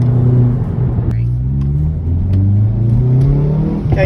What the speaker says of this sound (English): We'll go through the crackle and pop with the exhaust